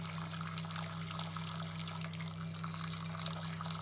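Hot water pours steadily into a casserole dish to make a tomato sauce, a continuous close liquid rush with a low steady hum underneath, no talking.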